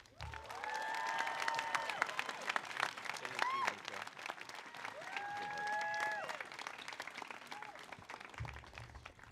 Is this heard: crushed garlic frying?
no